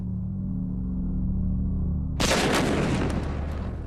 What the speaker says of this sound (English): The Matador's second explosion has done serious damage to this building.